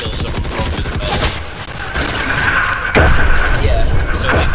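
Gunfire in the Roblox trench-warfare game Entrenched crackles in dense, loud bursts, with booming impacts and a sharp crack near the end over a constant battle din.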